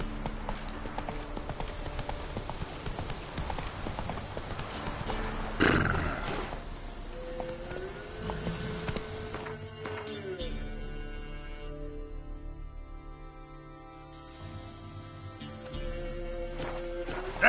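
A horse gallops in The Witcher 3, a steady clip-clop of hooves with some whinnying and in-game ambience, loud and close, running the whole stretch.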